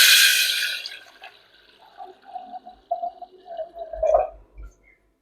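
Water poured from a tumbler into a cooking pot for wheat kali, a loud splashing gush at first that thins into intermittent dribbles and small drips near the end.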